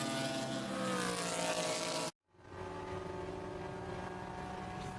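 Race car number 63 at Road Atlanta roars down the back straight, a loud sustained engine note that cuts out abruptly and then returns as a quieter engine drone.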